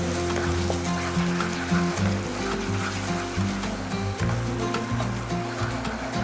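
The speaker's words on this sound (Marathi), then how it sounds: "यामध्ये आपण दोन चमचे पाणी टाकून पुन्हा ही पेस्ट परतून घ्यायची आहे." Onion and tomato paste sautéing in a kadhai for restaurant-style kadhai paneer, with two spoons of water just added, gives a steady, loud broadband sizzle and crackle that carries on unbroken without any speech.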